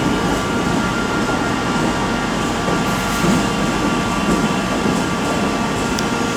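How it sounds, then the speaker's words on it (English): A CrossCountry service to Newcastle readies to depart at Birmingham New Street station, a steady rumble of idling engines and station hum that holds constant and loud throughout, with no talk. "1430 cross-country service to Newcastle is also getting ready to depart"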